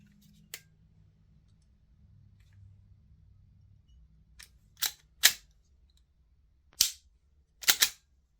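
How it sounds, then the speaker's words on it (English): Trigger of an Action Army AAP-01 airsoft pistol with an upgraded trigger gives sharp, close mechanical clicks, several isolated snaps spaced irregularly with a few pairs, over a faint low hum and otherwise quiet room. "You can hear that reset, like that click is probably going to do my head in."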